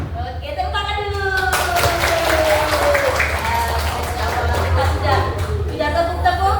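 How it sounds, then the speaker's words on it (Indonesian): Group of schoolchildren clapping hands together in a classroom, a steady burst of applause lasting several seconds, close and loud, with a teacher's voice and bits of singing-like tones over it at the start. "Oke, tepuk tangan dulu."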